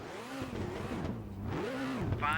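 A rally car engine in Colin McRae Rally on PlayStation revs up and down in rising and falling sweeps, a medium-pitched growl that swells and eases twice before climbing again.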